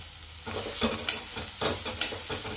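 Ridge gourd chutney with coarsely crushed roasted peanuts and coriander sautéing in a pan, a steady close sizzle broken by several scraping stirs of a spoon, with no voices.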